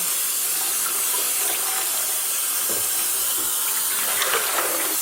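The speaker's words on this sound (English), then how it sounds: "I'm also adding some warm water to this because otherwise my hands are going to get really, really cold." Warm water runs steadily from a tap into a dye pot with dish soap, a continuous loud hissing splash with no talk over it.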